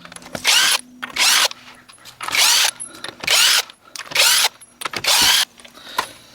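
A power impact tool working lug nuts on the front wheel of a 2010 Ford F-150: about six loud, close bursts of whirring and rattling hammering, each near half a second long, separated by brief pauses.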